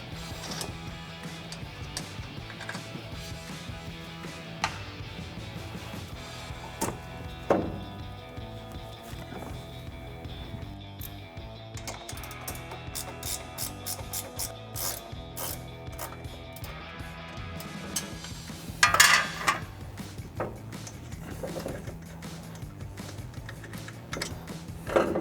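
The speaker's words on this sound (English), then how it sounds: "finish loosening up those nuts" A ratchet loosens the strut tower nuts on a 2004–2023 Ford F-150, faint irregular clicking and mechanical ticks scattered over a quiet background, with a slightly louder clatter near the end.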